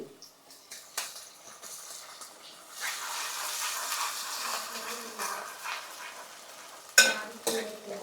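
Ginger garlic paste fries and gets stirred in a pan for a fish curry, giving a soft, steady sizzle with scraping stirs and a sharper clatter near the end, no talk.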